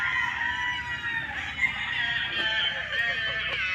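Several laying hens cluck and chatter nearby in a dense, overlapping chorus, with scattered sharper calls.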